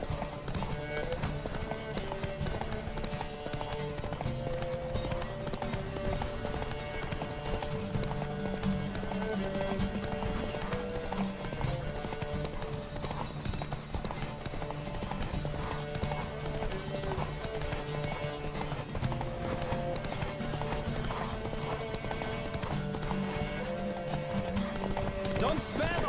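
Rhythmic hoofbeats of a galloping horse in The Witcher 3: Wild Hunt run continuously under game music, with occasional whinnies and voices mixed in.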